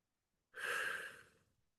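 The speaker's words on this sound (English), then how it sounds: "Thankful for the breath, breathing out." A single long, breathy exhale during a guided meditation, starting abruptly and slowly fading out over about a second in otherwise quiet surroundings.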